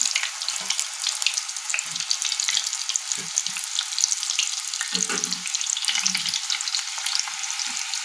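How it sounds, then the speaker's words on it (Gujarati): Potatoes fry in hot oil over a high flame, making a loud, continuous crackling sizzle close by, dotted with occasional low bubbling pops and bumps. "તેલ ગરમ થઈ ગયું છે આપણે એમાં બટેકાને ફ્રાય કરી લઈશું"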